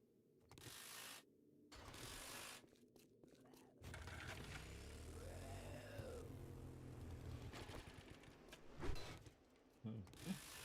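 A wrench ratchets in the game 7 Days to Die, producing faint bursts of mechanical clicking and grinding with short pauses between them and a low rumble of game ambience underneath.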